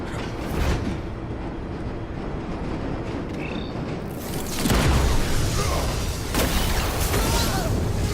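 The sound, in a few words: train in Batman Telltale video game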